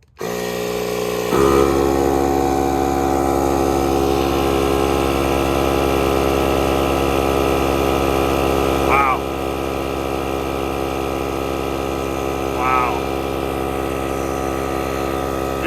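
Milwaukee M18 and M12 cordless inflators run together with a loud steady motor drone. One unit cuts out partway, and a softer hum continues under a speaking voice.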